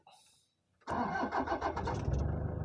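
A Toyota Vigo pickup truck starts up: after a moment of near silence the engine cranks and catches with a loud burst, then settles into a rough, throbbing idle close by.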